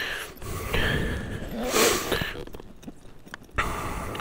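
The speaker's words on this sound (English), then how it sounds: "Sorry for the heavy breathing, but it's a good workout." A rider breathes heavily after off-road riding on a 2021 Honda CRF 300L Rally along a riverbar trail, with loud gasping breaths and snort-like exhales coming in uneven bursts up close.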